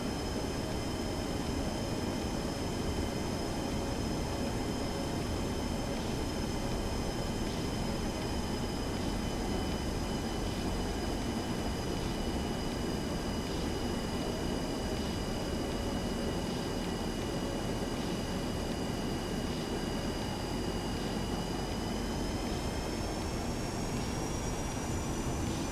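Boeing 737-200 jet engines spool up for takeoff in the X-Plane 12 flight simulator, a loud, continuous roar with steady high whining tones that climb near the end, with no one speaking.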